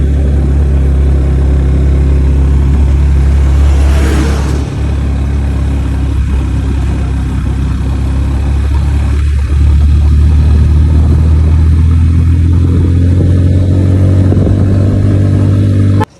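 A motorcycle rides a steep mountain road between Bandarban and Keokradong, its engine a loud, steady drone with wind rush that barely changes for the whole stretch, and no talking.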